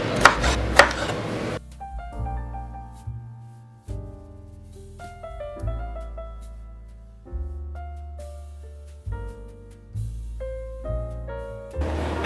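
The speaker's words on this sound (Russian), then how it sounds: "Отрезаем все лишнее и нарезаем на крупные кусочки." A knife chops bell peppers of different colours into large pieces on a board for an Uzbek dimlyama, giving crisp, close, irregularly spaced thuds with short pauses between cuts.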